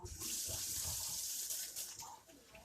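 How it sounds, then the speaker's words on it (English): Tap water runs steadily into a sink while hands are washed after cutting meat, a close, continuous splashing rush that eases off near the end. "Let me wash my hands."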